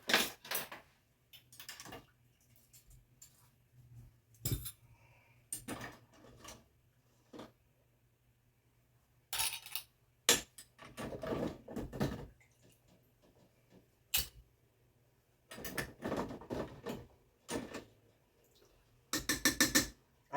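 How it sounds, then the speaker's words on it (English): Glass canning jars and metal lids being lifted out and set down, a scattered series of sharp clinks and knocks separated by quiet pauses, close by in a kitchen. "I'm going to take my lids and jars out"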